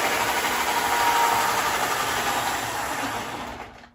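A small toy locomotive strains to pull a string of cars, giving a steady, close mechanical whirring and humming hum that continues evenly before fading out at the end, with no voices.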